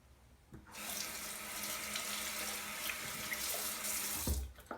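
A tap gushes water into a sink in a steady, close rush for about four seconds, starting abruptly after a quiet moment and cutting off near the end with a soft thump.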